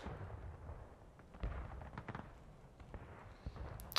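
Scattered artillery booms and cracks from the Civil War game Generals at War, a few sharp reports at irregular intervals over a low rumbling battlefield background, moderately distant and without speech.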